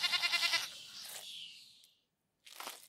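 A sheep bleats in a quick wavering burst, then a softer second bleat follows, with a short silence and a final breathy bleat in a staged audio drama setting.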